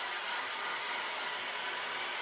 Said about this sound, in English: Just gonna get my Christmas present heat gun.